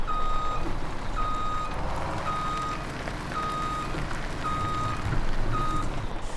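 A truck in Farming Simulator 17 backs up while moving a trailer, its reversing alarm beeping in a steady, evenly spaced series of six or so tones over a low engine rumble.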